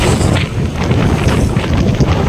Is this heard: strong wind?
yes